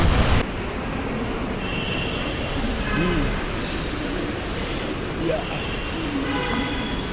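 A metro train rumbles along with a steady, loud roar of wheels on track and faint squeals, heard from inside the carriage with some voices in the background.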